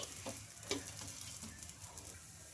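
A rumali paratha fries on a pan with a low, steady sizzle. Faint crackles and a few brief scraping taps come through, with no voices present.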